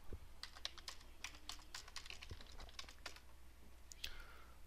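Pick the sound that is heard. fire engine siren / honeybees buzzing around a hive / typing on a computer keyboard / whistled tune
typing on a computer keyboard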